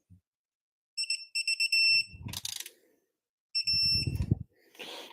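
Electronic beeps from a handheld locating tool come in quick repeated bursts as it nears its target, pause, then return as a steadier tone when on it, with clunky handling noises between, during work on a Toyota 1MZ-FE engine.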